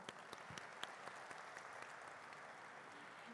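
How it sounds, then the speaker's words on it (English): Applause at the Tata Capital Limited stock listing ceremony: steady, fairly faint clapping from a gathered audience, even throughout with a few sharper individual claps standing out. "May we have a round of applause."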